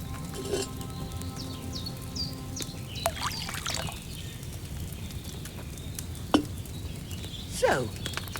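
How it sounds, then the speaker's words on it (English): Wine poured from a pitcher into a cauldron in the medieval game Kingdom Come: Deliverance 2, a soft continuous liquid splash with a few clinks and knocks, heard fairly quietly against a low ambient background. "So, what did you pour in there? Wine, of course."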